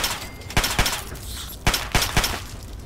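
Several sharp gunshots in the video game Fallout 3: two quick pairs of loud cracks with a short pause between them, over faint game background noise.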